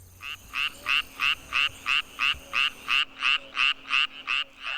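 A male fire-bellied toad, which lacks a vocal sac, calls in a steady series of about fourteen short, evenly spaced croaking pulses, clear and close against a faint background hum.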